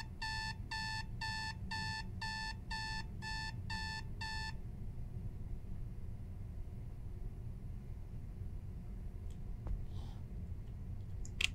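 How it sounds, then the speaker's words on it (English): An alarm clock rings in a run of nine rapid, evenly spaced electronic beep bursts lasting about four seconds, then stops, leaving a low rumbling background hum. "Now go shut off the alarm."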